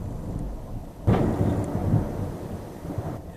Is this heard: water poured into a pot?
no